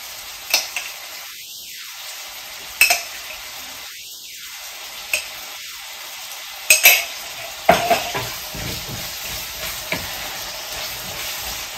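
Curry with tamarind extract frying in a pan, a soft sizzle beneath intermittent scraping and clinks of a spoon stirring against the metal, several distinct knocks spread across the stretch.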